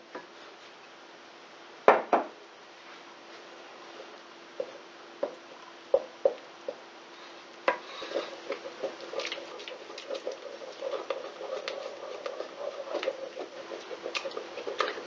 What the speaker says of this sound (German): das wird einfach jetzt so lange gerührt, bis sich unten der Teig so etwas ansetzt, anbappt am Boden